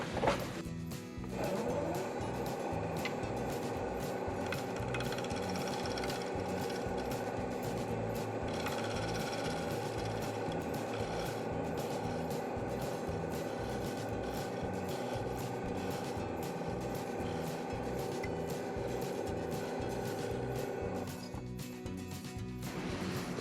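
Shear scraping across a maple candy dish spinning on a wood lathe gives a steady, close, rhythmic rasping hum that starts after a thump and runs for about twenty seconds, with no talking.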